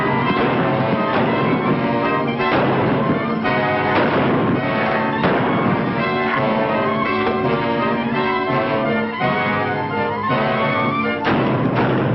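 Gunfire rings out in a blazing western film gun duel, with repeated shots and thuds over a dense, continuous soundtrack mix of music and effects, loud throughout.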